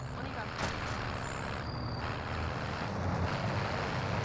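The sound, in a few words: vehicle driving in Call of Duty Warzone, a video game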